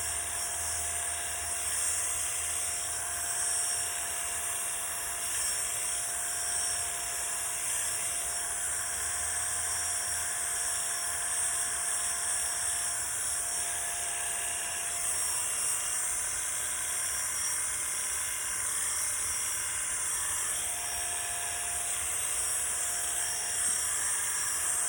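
Electric hair clippers run with a steady, bright high-pitched hum and hiss while trimming around the ear and blending corners during a man's home haircut. The hum stays continuous and close for the whole stretch, with no talking.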